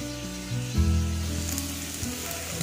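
Pork pieces sizzling in a pan as their fat renders out, a steady crackling hiss close by with soft popping, continuing evenly throughout.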